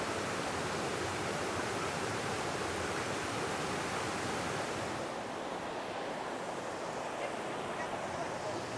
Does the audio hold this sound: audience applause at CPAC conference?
no